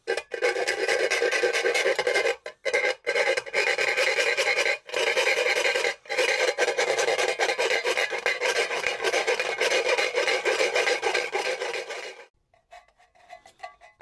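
A round file rasps steadily along the edge of a hole cut in metal during a DIY van heating and hot water rebuild. Close, loud back-and-forth strokes with brief pauses run for about twelve seconds, then stop.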